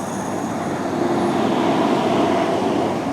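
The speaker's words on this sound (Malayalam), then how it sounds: "ഇതേ വരുന്നു നമ്മുടെ തിരുവനന്തപുരം കാസർഗോഡ് വന്ദേ ഭാരത് എക്സ്പ്രസ്" A Thiruvananthapuram–Kasaragod Vande Bharat Express train rolls past on the Kerala line, a steady loud rumble of wheels and carriages that holds at the same level for the whole stretch with no voices.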